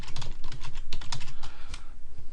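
Rapid, close typing on a computer keyboard, a dense run of crisp key clicks in an uneven rhythm, loud and alone without speech.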